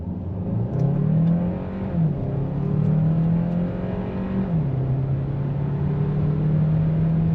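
A 2025 Hyundai Santa Fe Hybrid accelerates hard from 0 to 60 in sport mode at full power, its engine rising in a steady, loud drone with smooth upshifts heard as brief dips and recoveries in pitch.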